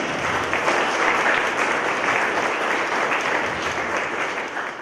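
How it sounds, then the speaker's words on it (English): An audience applauds a group of students standing at a snow-science conference welcome session, steady dense clapping from many hands at close range, holding fairly even throughout. "let's give this group a little round of applause"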